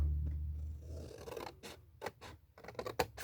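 Scissors snipping paper while making a small gift box, a few short dry scratchy cuts in quick irregular succession, close and quiet after a low rumble fades out.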